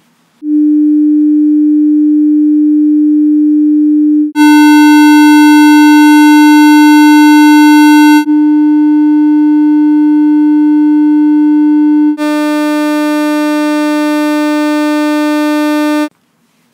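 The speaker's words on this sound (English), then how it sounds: "So let's now compare the sounds of all the waveforms so that we can hear the differences between each" Electronic waveform tones play in sequence: sine, square, triangular, sawtooth and ramp. Four steady sustained blocks of about four seconds each sit at the same pitch and alternate between pure and buzzy, harmonic-rich timbres, loud and alone.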